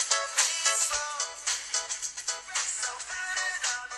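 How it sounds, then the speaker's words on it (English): A song plays at full volume through the small speaker of an HTC Wildfire S phone, thin and tinny with a pulsing beat and melody, steady for a few seconds with no talking. "I've clicked another song, and if you can see the volume rocker, that does come out, Andy."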